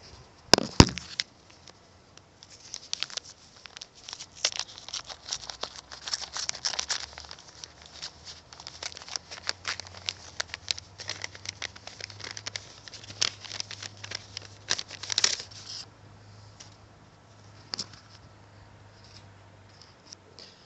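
An airmail package being opened by hand, with paper wrapping crinkling, tearing and rustling in close, irregular bursts over a faint low hum, and no talking.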